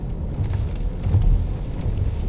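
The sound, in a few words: wind buffeting a car during a rainstorm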